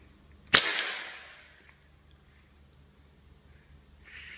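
A Crosman 2240 CO2 air pistol on a 12g cartridge fires a 14.3 grain pellet, one sharp close crack with a short hissing decay, then quiet with a faint rustle afterward.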